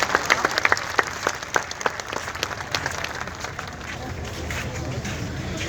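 An audience at a protest gathering breaks into applause to welcome Ghulam Hussain Akhtar, a dense burst of clapping that starts strong and gradually thins and fades over a few seconds.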